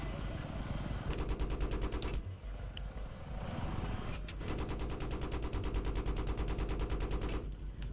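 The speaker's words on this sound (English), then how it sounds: "Got to lay down some rockets." Rockets and automatic fire in the Battlefield 3 video game, two long bursts of rapid rhythmic shots close and loud, with a brief lull between them.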